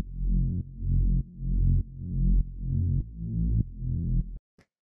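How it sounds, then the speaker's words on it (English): A synth bass line follows the chords of an electronic track. It plays as a deep, sustained low tone in repeating phrases of about half a second each, loud and alone, then cuts off near the end. "the next thing we have here is this bass, which sounds like this"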